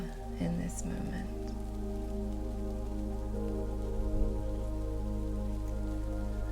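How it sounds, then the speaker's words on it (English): Rain falling in a forest along a woodland path, a soft, even patter that continues throughout beneath a sustained low tonal drone. "The sound of the rain changes once more."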